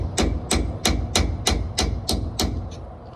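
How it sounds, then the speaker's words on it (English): Metal punch tapped against a rear brake part on a 3500-series box truck, eight sharp, evenly spaced strikes ringing out close and loud with no talk. "and tap it until this piece loosens up."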